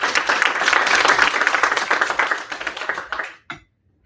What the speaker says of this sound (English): Can we give a huge round of applause?